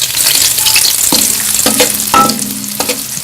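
Onions hitting hot ghee in a pan, a steady loud sizzle with several sharp bursts of stirring and spatula scrapes spaced through the frying, no voices.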